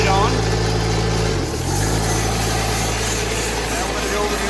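A diesel engine drives a TimberKing 6000 sawmill with the blade switched on, giving a steady, loud, close mechanical drone with a brief dip in pitch partway through.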